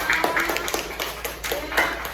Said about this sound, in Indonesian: sekarang beri tepuk tangan dulu untuk kelompok 1